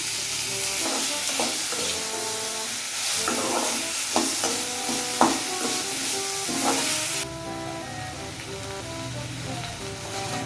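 Tomatoes with rock salt sauté for chutney in a hot pan, a loud continuous sizzle and hiss with repeated spatula scrapes and stirring knocks, the spitting easing slightly near the end.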